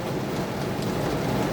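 Steady rain in Pasig falls around a stopped vehicle, a dense, constant wash of noise with a low rumble underneath, holding even in level with no breaks and no voices.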